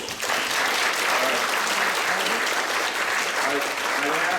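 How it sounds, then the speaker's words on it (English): Sustained, dense applause from an audience at a city council meeting about a dog beach, loud and continuous for several seconds with some voices mixed in. "I ask that we would hold our applause for a while, please"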